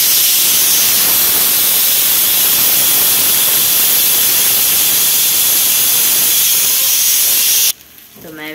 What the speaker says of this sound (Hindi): जो सीटी बज रहा है ये है तड़का का